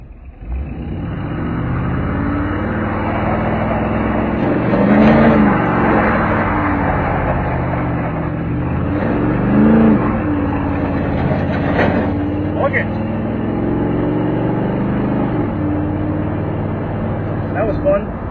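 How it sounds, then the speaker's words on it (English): A pickup truck spins a donut on asphalt, its engine droning loudly and steadily with rising and falling revs over nearly twenty seconds, close and continuous, with faint tire noise mixed in. "That was my first donut on asphalt with this truck."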